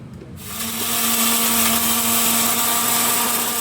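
A mixer grinder starts up and whirs at a steady high-pitched drone, blending peanuts and coconut with water into a chutney paste, loud and close with no talk.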